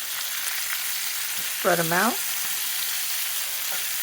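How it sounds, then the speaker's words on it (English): Vegetables for chicken and shrimp fajitas sauté in a hot pan with a steady, loud hiss that runs the whole time, while a voice speaks briefly partway through. "We're going to let them saute."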